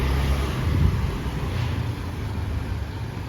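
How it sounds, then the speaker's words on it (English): Strong wind buffets an outdoor microphone on a wet, windy day in Seminyak, Bali, a steady low rumble that runs for the whole stretch, loudest in the first second, with no talking over it. "because the wind is strong today"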